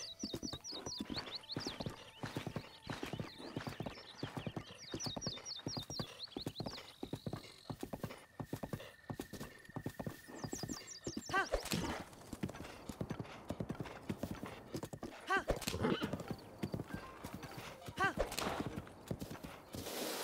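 Steady clip-clop of horse hooves at a trot in the video game The Legend of Zelda: Breath of the Wild, close and continuous, with the horse whinnying loudly several times over the galloping rhythm.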